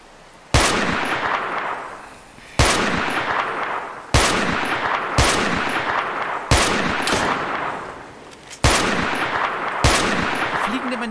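Sniper shots from a CheyTac M200 rifle in DayZ, seven sharp, loud cracks spaced a second or two apart, each trailing a long ringing echo; no talk over them.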